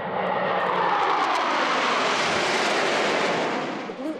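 An airplane engine roars loud and steady as the aircraft performs at the 2016 Smoky Mountain Air Show, fading slightly at the end.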